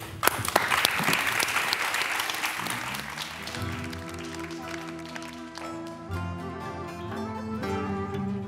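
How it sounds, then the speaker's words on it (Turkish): Studio audience on a Turkish variety talk show breaks into loud, dense applause that gradually thins out as music begins underneath. "Hadi bakalım alkışlar"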